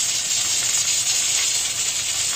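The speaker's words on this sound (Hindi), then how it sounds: "ये 1 टेबल स्पून है अदरक लहसुन का पेस्ट, इसे यहाँ पर थोड़ा सा बीच में पका लेंगे" Ginger garlic paste sizzles in a hot pan, a loud, steady, bright hiss that goes on without a break, close up and with no voices.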